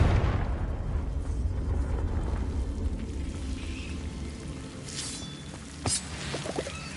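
A Confringo fire spell blasts in a Harry Potter game played on PS4, a loud rumbling explosion that fades over several seconds into crackling debris and faint tinkling effects.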